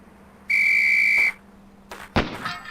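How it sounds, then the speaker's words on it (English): A single sustained whistle blast signals the start of a pistol shooting drill on a police academy range in the 1995 game Police Quest: SWAT, loud and steady for under a second, followed by sharp gunshot-like bangs. "On the whistle."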